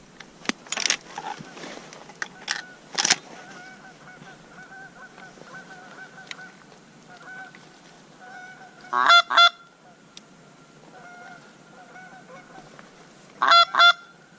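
Wild geese flying in during a late-season goose hunt, their loud honking calls coming in two close bursts, with fainter calls scattered between them over a quiet outdoor background.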